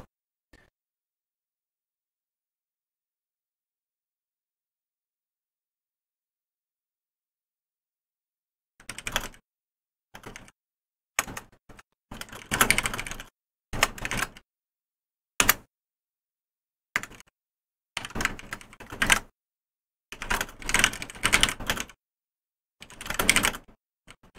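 Computer keyboard typing, starting after a long stretch of silence and then coming in irregular bursts of quick, close key clicks.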